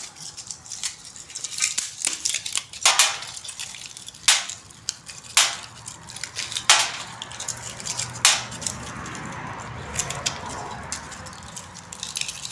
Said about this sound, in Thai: แกะถั่ว